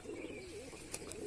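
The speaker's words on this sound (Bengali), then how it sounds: "এখান দিয়ে আমি কবুতরটাকে আস্তে আস্তে তাড়াচ্ছি" Pigeons softly cooing in a quiet spot, low rolling murmurs that rise and fall across a short stretch, with faint brief flutters or clicks near the end.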